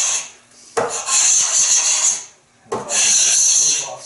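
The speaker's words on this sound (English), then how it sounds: "It makes a pretty appalling scraping noise" A steel scraper with paraffin rasps along a thin wooden lute rib fitted to a mould. Two long, harsh scraping strokes sound up close, separated by a short pause.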